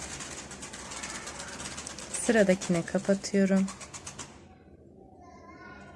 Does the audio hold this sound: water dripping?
no